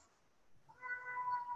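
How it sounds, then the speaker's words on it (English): A house cat meows close by, a short tonal cry rising out of near silence in one brief call. "my cat is close to me"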